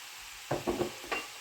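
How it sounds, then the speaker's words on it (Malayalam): A pan of cabbage and carrot thoran with grated coconut is stirred, four quick scraping strokes over a faint sizzle, close by and brief. "ഇനി നമുക്ക് നന്നായിട്ടൊന്ന് മിക്സ് ചെയ്യാം."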